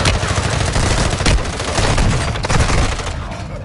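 A Semtex grenade blast and dense gunfire in a tactical shooter game, loud and continuous crackling bursts filling the whole moment without pause.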